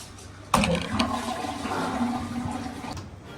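An apartment toilet flushing close by, starting with a sharp click of the handle followed by a rushing swirl of water that drains steadily for a few seconds before tapering off.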